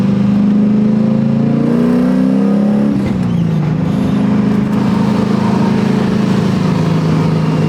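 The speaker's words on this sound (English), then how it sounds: "Giving some good exhaust clip sounds." Exhaust of an LSX-swapped 1977 Datsun 280Z on the move, a loud steady V8 drone that climbs in pitch, dips as the car shifts near the three-second mark, then holds a deep even rumble to the end.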